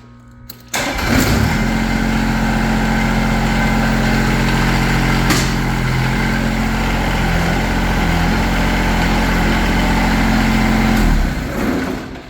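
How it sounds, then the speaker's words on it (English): A heavy tractor engine starts up with a sharp catch, then revs to a loud, steady working drone for several seconds as the loader arms and grapple lift the front end, before easing off at the end. "use the loader arms and grapple to lift the front end of the tractor up"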